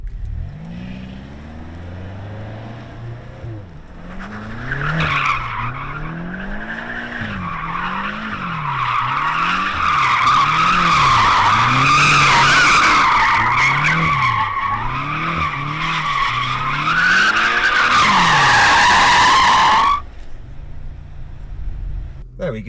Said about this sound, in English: before we actually do the race, we need to warm up our tyres